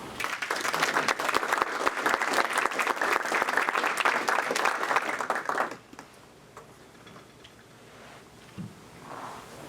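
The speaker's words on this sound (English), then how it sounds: "please join me in giving a warm Rotary welcome to DeeDee Mulligan." A Rotary club audience gives a warm welcome to a speaker with about six seconds of dense, steady applause, which ends abruptly and is followed by quiet room tone with a faint bump.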